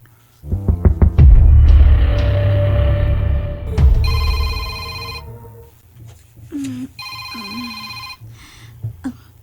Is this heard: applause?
no